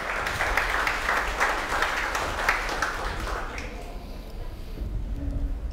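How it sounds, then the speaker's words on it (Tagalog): A church congregation claps together, a dense burst of applause that fades away toward the end, leaving a quieter room. "Sige, palakpak kay Lord."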